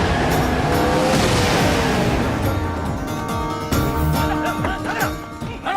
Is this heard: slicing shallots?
no